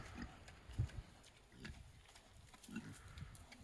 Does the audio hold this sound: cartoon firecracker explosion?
no